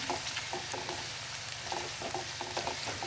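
Onion sautéing in a hot pan on a high flame, a dense continuous sizzle with a few soft stirring scrapes, close up with no voices.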